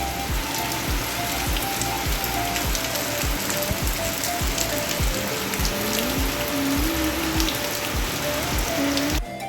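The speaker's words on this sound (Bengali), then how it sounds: "তবে এখন একটু মুষলধারায় বৃষ্টি হচ্ছে। হাওয়া তেমন নেই, ঝড় নেই, কিন্তু শুধু বৃষ্টি।" A heavy, windless morning downpour pours steadily, with nearby drops pattering and dripping over a dense roar of rain, while a faint whining tone drifts in the background.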